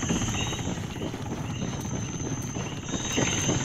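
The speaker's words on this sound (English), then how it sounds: "Everybody get ready to shoot this helicopter that flies over." A helicopter in ARMA 3 drones steadily with a dense, churning rotor rumble and a constant high whine, loud and sustained, with no voices over it.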